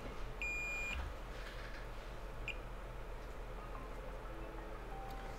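An iPhone rings with short, fairly faint electronic beeps over a steady background hum in a repair workshop.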